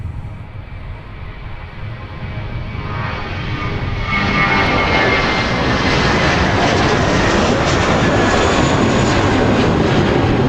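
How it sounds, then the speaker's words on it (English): An American Airlines jet takes off from Minneapolis–St. Paul, its engine roar swelling from a steady rumble into a loud, sustained broadband thunder that holds strong to the end. "here's American off to Phoenix"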